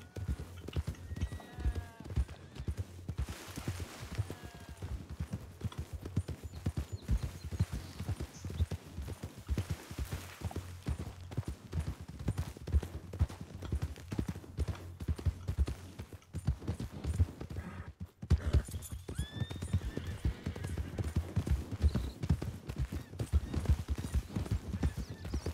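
A horse in Red Dead Redemption roleplay clip-clops along in a steady continuous rhythm of hoofbeats, fairly faint, with a few brief snorts and occasional quiet voices in the background.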